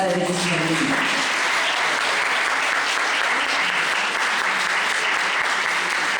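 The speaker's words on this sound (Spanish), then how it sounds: "pido un fuerte aplauso por nuestra Facultad de Derecho y Ciencia Política" A large audience applauds the Faculty of Law and Political Science, loud sustained clapping filling the room from start to finish, with a voice briefly audible at the very start.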